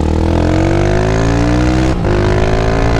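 A Honda 150 Sport motorcycle fitted with a 280cc engine, being broken in on an avenue, revs loudly up close, its pitch climbing steadily, dipping briefly at a gear change, then pulling upward again.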